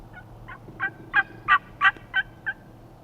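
Wild turkey gobbling in Idaho spring woods, a rapid run of about six gobble notes that swell in loudness and then fade, clear over quiet background with no talk.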